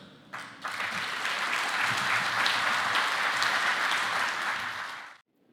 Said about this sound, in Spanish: Le damos la bienvenida con un fuerte aplauso a Alain Cursat.